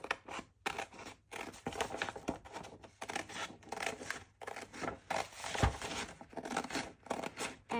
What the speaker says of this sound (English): cut all this paper off